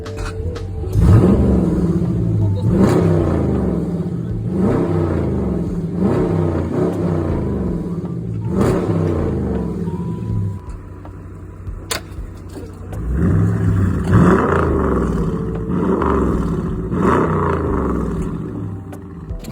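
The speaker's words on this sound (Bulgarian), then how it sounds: "до сега давахме газ на този Challenger" A Dodge Challenger's V8 engine is revved repeatedly and loudly at close range: a series of deep, roaring blips with a short pause, then more revving and a sustained rumble.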